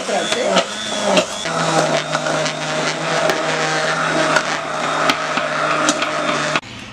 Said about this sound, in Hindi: ये हमने साग को अच्छी तरह से आप देख सकते हैं ब्लेंड कर लिया है।